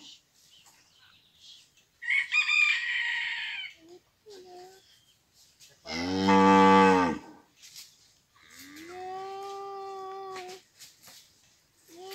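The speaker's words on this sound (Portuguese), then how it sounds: "Essas acaiadas estão berrando aqui, ó." Cows and calves in a farm corral moo and bellow in several separate loud calls, one long deep low and others higher, while someone speaks briefly between them.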